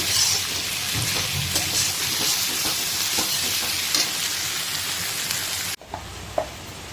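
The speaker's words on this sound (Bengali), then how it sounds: "পেঁয়াজটাও ভাজা চলছে, তবে আর একটুখানি ভাজা হবে" Onions frying in a pan for a thin chicken curry, giving a loud, steady close sizzle with occasional stirring scrapes, then a sudden drop to a quieter hiss near the end.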